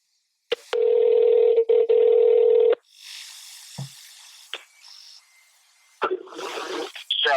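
A phone line carries a steady dial tone for about two seconds, cut by brief breaks, then short electronic beeps and clicks from call setup follow.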